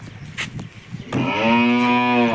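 A bull lows on a farm where a bullock cart is being readied, one long, loud, harmonic moo that swells after about a second of quieter rustling and thuds.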